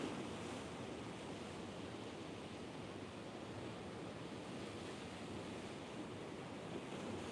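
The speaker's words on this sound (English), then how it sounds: "you actually heard the sea burping noises" Sea waves wash onto Brenton's Beach at Knysna in South Africa, a faint continuous surf wash mixed with light wind noise, distant and steady with no distinct breaks.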